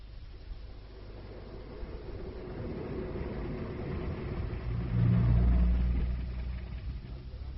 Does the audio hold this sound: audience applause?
no